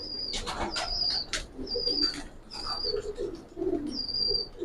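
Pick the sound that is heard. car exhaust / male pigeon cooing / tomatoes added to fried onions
male pigeon cooing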